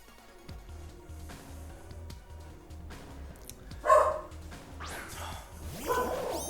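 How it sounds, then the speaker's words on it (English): Dogs barking in the background of a home, several sharp yips and whimpers near the middle and again toward the end, fairly faint behind other room noise. "don't mind any background noises, it's just cats and dogs doing cat and dog stuffs"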